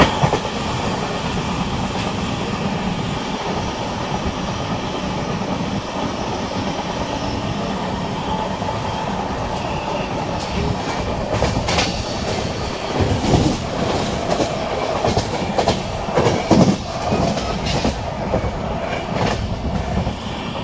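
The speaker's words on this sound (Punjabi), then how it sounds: "ਬਾਕੀ ਜਰਨੀ ਬੜੀ ਵਧੀਆ ਚੱਲ ਰਹੀ ਹੈ ਅਤੇ ਟ੍ਰੇਨ ਵੀ ਸਹੀ ਚੱਲ ਰਹੀ" Inside the Haridwar Bhavnagar Weekly Express, the train runs along with a steady loud rumble and rhythmic clickety-clack of wheels over rail joints, with a few squeals and rattles, heard from the carriage.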